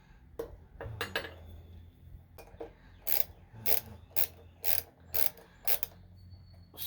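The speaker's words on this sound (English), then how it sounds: "Start them down with this ratchet, and then get the filler gauge in there and set the air gap." A hand ratchet tightening spark plugs on a lawn mower, heard as bursts of close, crisp clicking in quick rhythmic runs, with short pauses between sets of strokes.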